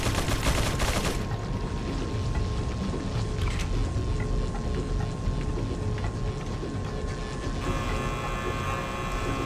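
Rapid automatic gunfire fills the game Resident Evil 4, a dense, continuous rattle of shots and mechanical clatter at steady loudness throughout, with no talking over it.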